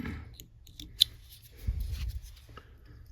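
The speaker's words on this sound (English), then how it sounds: "Cut my thread." Scissors snip thread at a fly-tying vise while a rubber legs fly is tied, a single crisp close cut followed by soft handling rustle.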